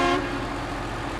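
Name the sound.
truck horn honking in the video game SnowRunner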